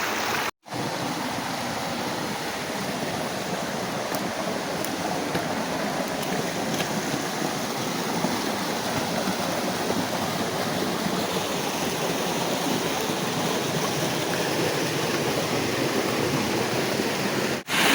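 A steady, loud rush of falling water from Curug Kutu waterfall fills the whole clip, a constant roar with no breaks.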